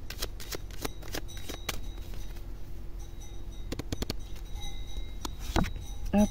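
Tarot cards are shuffled and flicked out one at a time, giving a sequence of sharp papery snaps and riffles, close and crisp, with quiet pauses between draws and no talking.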